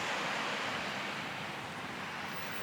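Water from a small fountain splashes in a constant, even hiss beside a historic village street, heard close and steady with no talking over it.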